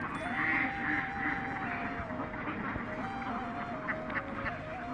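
A flock of Khaki Campbell ducks on a farm raising six hundred birds, quacking in an overlapping chorus that runs continuously at moderate distance over a busy outdoor background.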